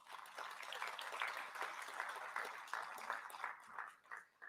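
An audience at a CEO speaker-series luncheon applauds to thank the event sponsors, a steady moderately distant patter of many hands clapping that thins out near the end.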